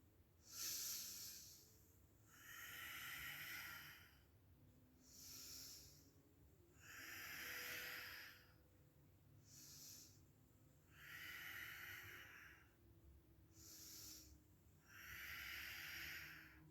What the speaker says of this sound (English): Hear your own breath.